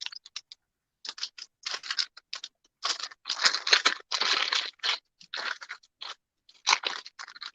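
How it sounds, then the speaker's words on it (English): A crunchy bag, likely a plastic or paper shopping bag at a vendor market, is handled in a close, fairly loud sequence of crinkling and rustling bursts with short pauses between, no talking. "I love crunchy bags until I'm on camera, and then I know how horrible it sounds."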